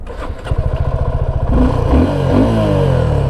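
Suzuki V-Strom SX 250 motorcycle starting up: a short clattering crank gives way to a steady, loud idle with rhythmic low exhaust pulses, close by and with no talking.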